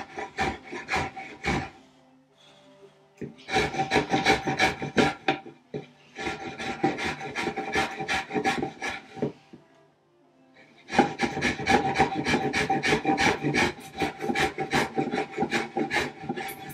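A spokeshave shaves wood in bursts of rapid, rhythmic rasping strokes, several quick passes per burst, separated by short pauses; close and fairly loud with no talking.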